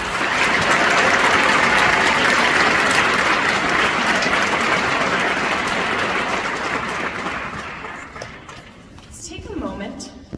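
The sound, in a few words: graduation audience applause for teachers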